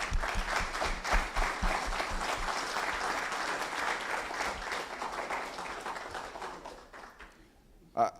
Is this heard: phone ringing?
no